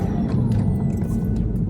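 A Porsche convertible's engine drones steadily in fourth gear while driving through a neighborhood, a dense low rumble holding an even level throughout with no break.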